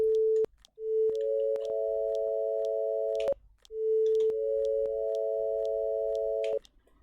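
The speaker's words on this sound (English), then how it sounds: "something's wrong with sine wave a little bit. It's kind of crunchy for some reason" A synthesized sine wave tone with an ADSR envelope plays twice, each note swelling in smoothly, holding steady with a slight crunchy edge, then ending abruptly, with brief clicks between the notes.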